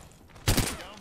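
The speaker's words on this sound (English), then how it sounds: "Getting shot at." Video game gunfire erupts in a short, loud burst of rapid shots, alone and close, over a faint background.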